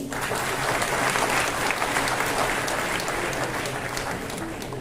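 A large crowd at a Tamil debate-style public speaking event gives dense, sustained applause, a continuous wash of clapping that holds at an even volume throughout.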